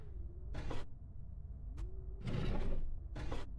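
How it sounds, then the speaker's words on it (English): Desk drawers creak and slide open in a video game while an office is being cleaned, giving three broadband scraping bursts with a brief click between them, heard alone over a low background hum. "Stupid desk drawers."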